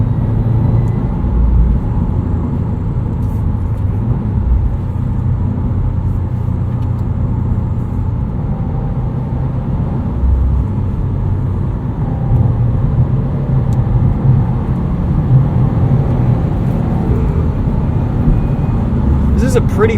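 A 2018 Subaru WRX STI driving on a bumpy road, heard from inside the cabin as a continuous low rumble with road noise and occasional thumps, while a person talks over it.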